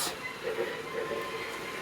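A continuous mechanical grinding hiss from a running Lionel model train, rough and steady with faint rumbling beneath, close by; a hot box in a reefer car's wheel bearing.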